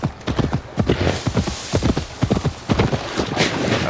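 Clip-clop of a horse galloping in a video game, a steady fast hoofbeat rhythm running throughout, fairly close and loud, with a brief whinny-like tone and no talk.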